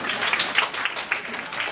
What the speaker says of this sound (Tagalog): Palakpak na sila.